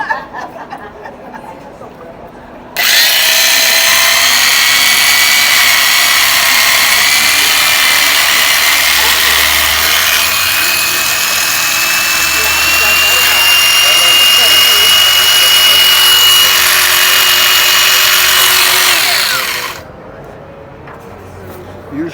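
Electric shears start up abruptly and hum loudly and continuously for about seventeen seconds while an Angora goat is shorn on a stand, then cut out, with talk before and after.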